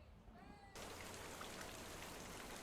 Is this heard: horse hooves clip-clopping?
no